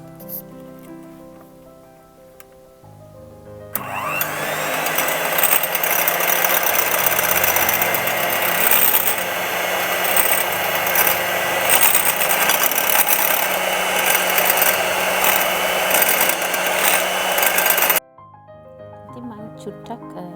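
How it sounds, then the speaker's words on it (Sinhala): Electric beater whipping dalgona coffee, a loud steady motor whir with a dense rattling buzz that starts a few seconds in, runs continuously for about fourteen seconds, then cuts off abruptly, with quieter background sounds before and after. "ඉතින් ඒක නිසා මම ඒක පොඩ්ඩක් වෙනස් කරලා ආයෙත් විනාඩි 2-3 බීට් කරගන්න හිතුවා."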